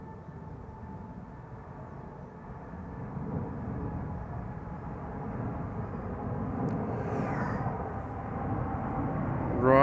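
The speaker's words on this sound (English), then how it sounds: "Emirates flight 146, I believe, leaving" Emirates airliner on flight 146 to Dubai departing Amsterdam Schiphol Airport, a steady, distant jet roar that swells gradually over the span, with a rising whine near the end.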